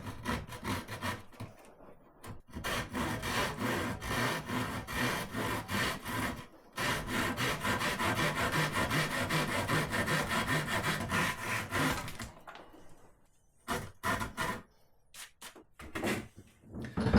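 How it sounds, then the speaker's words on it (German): A Japanese pull saw cuts a groove across a wooden board in long, steady rasping strokes that run nearly continuously. A pause follows, then several shorter, choppier strokes. "Dafür nehmen wir hier so eine Zugsäge, probieren es damit erstmal rechtwinklig ein bisschen eine Nut sägen"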